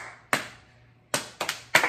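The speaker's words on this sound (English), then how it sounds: "I think it's this slow clap." Five crisp hand claps ring out in a quiet family room, spaced slowly and unevenly, the last few coming closer together, each loud and close with nothing else heard between them.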